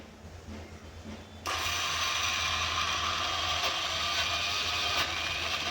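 A mixer grinder starts abruptly after a quiet moment and keeps running with a loud, steady whirring grind, grinding soaked urad dal into batter.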